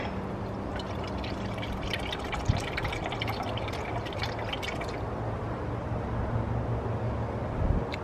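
Organic liquid kelp fertilizer being poured into water, a steady close trickle and splash with a few louder drips, continuous at a moderate level.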